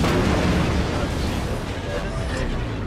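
Warship guns fire a shot in the naval game World of Warships, with a heavy booming blast at the start rolling into a broad rumble that fades under continuing talk.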